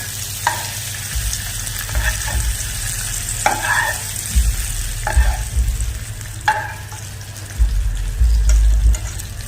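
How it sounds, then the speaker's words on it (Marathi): Raisins sautéing gently in a pan on low flame, a soft frying sizzle with a low rumble beneath and occasional spoon scrapes and taps, close with no talking. "हे मनुके थोडेसे परतून घ्यायचे"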